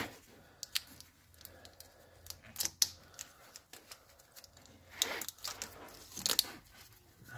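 Tape being unwrapped from a Honda Civic wiring harness during an ABS front speed sensor repair, heard as quiet, irregular crinkling and sharp peeling clicks that come in scattered close bursts, with no talk.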